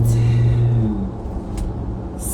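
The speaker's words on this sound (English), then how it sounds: "when I'm riding in, I don't know what kind of car this is." Low, steady engine rumble and road noise heard from inside a moving car, constant and fairly loud throughout with no talking.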